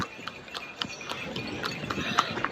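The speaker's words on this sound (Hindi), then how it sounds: "घोड़ा गाड़ी में जा रहे हैं, देखिए।" Hooves of a horse pulling a horse cart in Rajgir, India clip-clop in a quick, steady rhythm of sharp knocks, close and fairly loud over faint road background.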